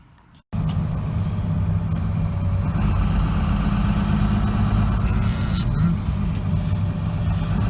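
A 1997 Dodge Ram Cummins diesel pickup engine kicks on abruptly and keeps running with a steady, loud, low rumble that fills the rest of the recording.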